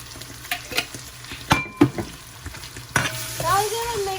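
Spaghetti sauce sizzling in a pan as it is stirred, with a steady low fry under repeated scraping and clinking strokes of a utensil against the pan, close and fairly loud, with no talk.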